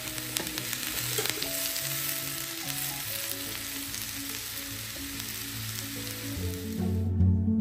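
Chicken frying in a pan gives a dense, steady sizzle with occasional stirring clatter, close and fairly loud, ending with a brief louder burst.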